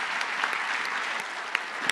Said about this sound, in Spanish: Y le quiero pedir al público un aplauso para los panelistas.